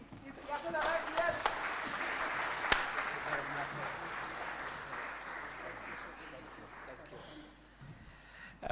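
A large crowd keeps up sustained applause at a university job fair welcome, with a few sharper individual claps standing out before the clapping slowly tapers off.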